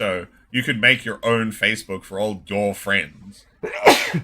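Someone speaks casually for a few seconds, pauses, then lets out a single sharp, loud sneeze close to the microphone at the end.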